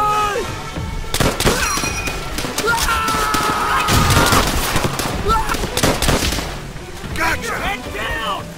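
Heavy gunfire in the World War II shooter game Call of Duty: World at War, with dense rifle and machine-gun bursts and explosions, while shouted voices call out over the loud battle.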